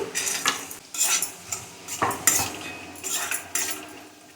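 Vermicelli and dry fruits roasting in ghee in a pan, stirred with a spoon, giving repeated metallic scraping and clinking strokes in a loose rhythm over a soft sizzle.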